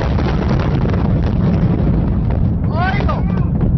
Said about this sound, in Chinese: 爆炸巨响划破天津港的长空